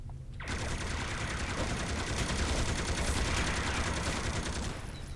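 Enemy gunfire in City of Heroes: a dense, continuous burst of rapid shots and fusillade, loud and unbroken for about four seconds after a short silent start, with no talking.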